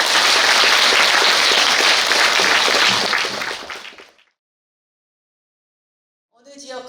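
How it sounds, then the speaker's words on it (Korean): Loud, dense applause from a gathering of party members welcoming a speaker at a members' education event in Gimcheon, steady for several seconds before fading to silence, then a voice begins speaking. "나경원 대표님 조금 이따 이제 소개를 할 텐데 나오실 때 큰 박수로 환영 좀 해주시고"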